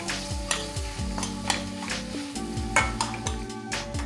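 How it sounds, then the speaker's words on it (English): Chopped paneer frying in butter while being stirred, a close sizzle broken by regular scraping strokes and spoon taps against the pan, with a low tonal hum beneath and no talking. "we're going to add the chopped paneer to the butter and let that cook just a little bit"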